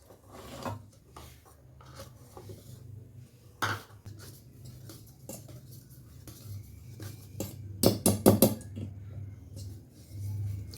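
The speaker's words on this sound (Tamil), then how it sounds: "இப்படி அழுங்காமல் கிண்டணும்." A spoon stirs maida flour into cake batter in a bowl, with soft, irregular scraping and rubbing strokes and several louder clinks against the bowl near the end, heard close up with no talking.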